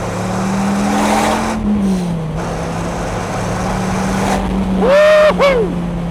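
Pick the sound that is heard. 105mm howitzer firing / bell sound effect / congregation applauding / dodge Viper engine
dodge Viper engine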